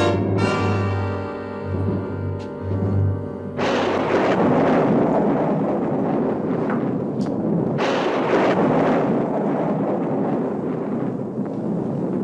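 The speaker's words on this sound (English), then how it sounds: "You're blowing up a big one out there." A large explosion goes off in a Western setting: a brief tonal rumble gives way to a sudden loud, sustained roaring blast that rolls on for several seconds, with no talking.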